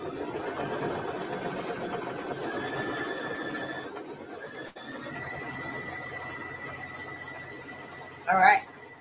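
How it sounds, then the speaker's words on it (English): An embroidery machine whirs steadily and closely at a quilting retreat, with a constant motorized hum and a faint high tone. A brief louder squeak sounds near the end. "The only downside of doing embroidery together is that we've got the machine whirring in the background."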